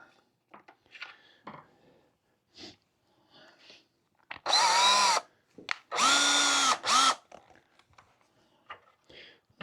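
Two bursts of a power drill whining loudly through material, drilling a hole with an 11/64 bit, preceded by soft clicks and handling noises.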